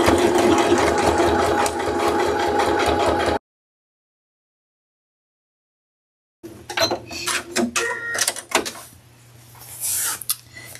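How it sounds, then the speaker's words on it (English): Sewing machine running two rows of stitching along the top edge of a drawstring purse pocket stiffened with fusible fleece, using a 90/14 needle at 3.0 stitch length; a steady, close mechanical whir for about three seconds, then silence, then clicks and handling noises. "I'm going to run two rows of stitching along the top of that pocket edge."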